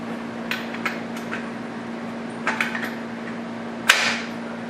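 A spindle lock adapter is hammered into place with a few sharp, close metallic taps spread over a few seconds, ending in one louder smack.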